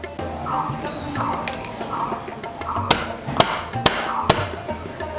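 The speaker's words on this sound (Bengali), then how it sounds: "একটু এলাচগুলো ভালো করে থেঁতো করে নিলে ফ্লেভারটা খুব ভালো আসে।" Whole cardamom pods, cloves and a piece of cinnamon are pounded, giving a run of dull knocks that turns into four or five sharp, loud strikes near the end.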